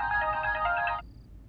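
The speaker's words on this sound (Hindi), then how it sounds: "रणवीर के मैनेजर टिंगरा साहब का फोन है।" A mobile phone ringtone plays a bright, repeating electronic melody for about a second, then cuts off abruptly, leaving quiet room tone.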